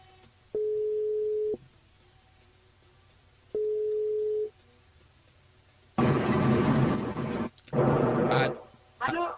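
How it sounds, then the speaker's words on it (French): Telephone line tone while a radio host calls a listener, two long steady beeps with a pause between, then loud talk from the studio. "On appelle Jennifer du côté de Saint-Louis."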